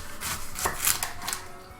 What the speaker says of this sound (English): let's go ahead and cut this onion